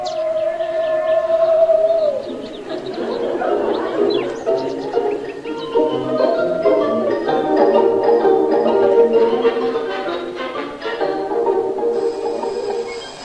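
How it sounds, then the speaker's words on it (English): A cuckoo call sound effect from a 1956 radio comedy plays as repeated soft cooing bird notes, fairly close and clear, with a tonal whistle at the start and no talk over it. "Daisy, there's a cuckoo out there now."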